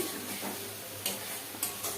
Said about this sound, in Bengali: এদিকে মাছটা ভেজে রেখে দিয়েছি এখন আলুটা কষিয়ে নিচ্ছি